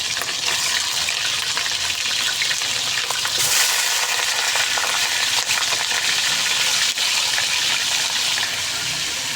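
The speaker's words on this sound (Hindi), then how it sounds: "चिकन को फ्राई करेंगे अच्छे तरीके से।" Chicken pieces with a little garam masala fry in hot ghee in a kadai, giving a loud, steady, close hiss of sizzling that runs unbroken throughout with no talking.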